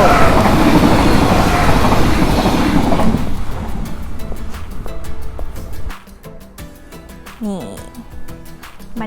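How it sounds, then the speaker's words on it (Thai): A loud train rumbles and roars close by as it arrives at a station in the Netherlands, fading into quieter platform ambience with scattered clanks and a squeal near the end. "โอ้รถไฟมาพอดีนะคะ แต่ไม่ใช่ของเรา"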